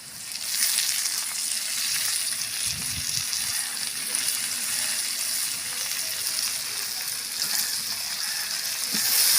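Onions and coriander sautéing in a large pan for a 5 kg beef dum biryani, a constant broad sizzle with wet stirring and a low thump early on, close and steady throughout, no voices.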